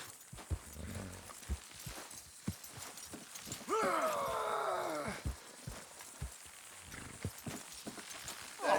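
Horse hooves clop in an irregular walking rhythm in Red Dead Redemption 2 while a horse whinnies loudly in the middle, with faint background noise.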